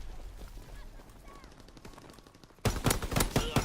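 STG rifle fire in Call of Duty WW2 on the Gibraltar map: after quiet background noise, a sudden loud rapid burst of automatic shots runs to the end.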